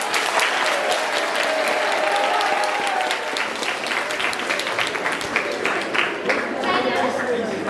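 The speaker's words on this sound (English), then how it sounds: "I have a round of applause for that?" Sustained audience applause at a college English department and innovation council event, dense and steady throughout, with crowd voices mixed faintly underneath.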